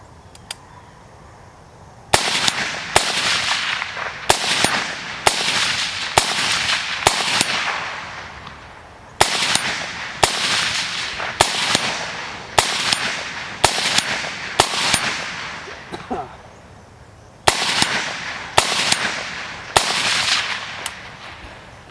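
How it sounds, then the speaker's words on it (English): A suppressed rifle empties the rest of its magazine in a long, loud string of sharp cracks, fired in quick bursts of several shots each with brief pauses between groups, close to the microphone and with no talking. "I'm going to just dump the rest of this mag"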